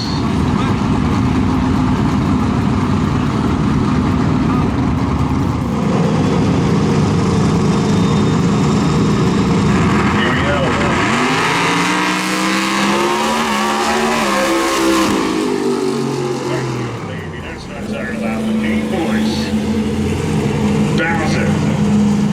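Loud race car engines at a track roar and rev continuously, with a rising and falling revving sweep midway, while voices talk underneath.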